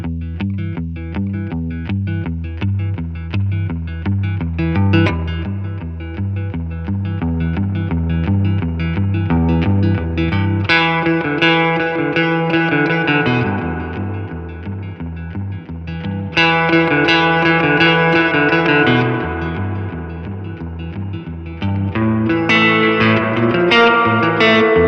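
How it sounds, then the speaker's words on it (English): An electric guitar through a Fender Tone Master Twin Reverb amplifier plays chords and picked notes, drenched in a splashy, echoing spring reverb with long trailing tails, loud and continuous. "replicate the sound of spring reverb, true spring reverb, and it sounds glorious"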